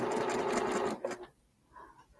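Sewing machine stitching a quilt block, a fast steady mechanical whir for about a second, then a few short bursts as it stops and starts.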